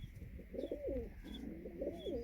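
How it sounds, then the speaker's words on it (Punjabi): A pigeon coos softly, a few rolling low notes in a row, close by over a dull background rumble. "ਇਹ ਬੱਚਾ ਗੁੱਟਕਦਾ ਪਿਆ ਪਤਾ ਨਹੀਂ ਕਬੂਤਰ ਆ ਜੀ ਕਬੂਤਰੀ"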